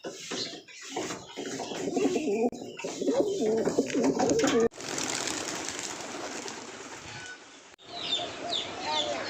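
Pigeons coo around a female Giribaz pigeon held in the hand, with low warbling calls under handling noise and a steady hiss in the background.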